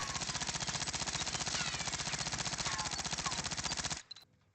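Rapid, steady automatic fire from a PPSh submachine gun in Call of Duty Warzone, one continuous loud burst lasting about four seconds before cutting off abruptly into near silence.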